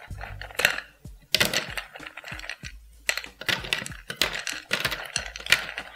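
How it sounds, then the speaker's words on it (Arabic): Hard ice cubes clatter and knock against a blender jar in a rapid, irregular series of sharp clinks, close by. "دلوقتي بقى هحط التلج، لان ده سموثي"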